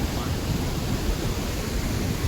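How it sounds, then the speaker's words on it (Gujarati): Heavy monsoon-style rain in Lilia, Amreli district, pours in a dense, loud, unbroken roar with deep rumbling low noise and no voices. "જોરદાર વરસાદ છે આજે"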